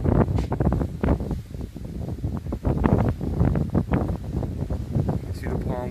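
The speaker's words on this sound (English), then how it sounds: "The wind is starting to pick up." Strong wind gusting through palm trees in Fort Lauderdale ahead of Hurricane Irma, a steady roaring buffet on the microphone with rustling throughout.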